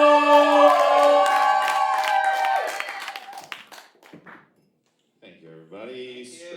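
A concert crowd at Staples Center cheers and applauds for a house band, loud at first alongside tonal music, then fading to near silence before voices return.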